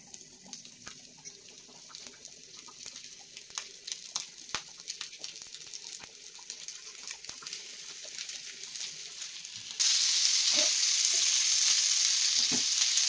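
Kupa fish pieces coated in semolina fry in hot oil on a tawa, a steady crackling sizzle that grows louder and hisses strongly in the final seconds.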